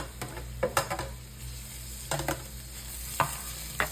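Ground beef browns in oil with carrot and celery, hissing steadily in the pan while a utensil stirs and scrapes, landing several sharp clacks against the pot.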